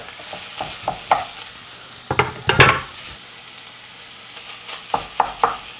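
Vegan mock meat being stirred into sautéed onions in a hot pot, with clustered scraping strokes of a utensil over a light sizzle, in two busier bursts with quieter gaps between.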